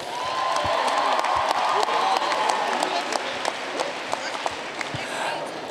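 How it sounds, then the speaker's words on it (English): A dance-event audience at Towson University's Dance the Madness 2022 gives the dancers dense, sustained applause with scattered cheers and whoops, loud and continuous throughout. "Can we get a big round of applause for all the dancers that have come before?"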